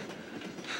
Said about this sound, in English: Now the train's going too fast.